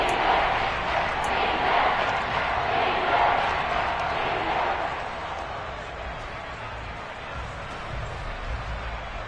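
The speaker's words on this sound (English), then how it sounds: "That just means this crowd's going to get even louder" A stadium crowd roars in the Madden 23 football game Falcons vs Panthers. The wash of noise is broad and steady, eases a little after about five seconds, and continues at a lower level.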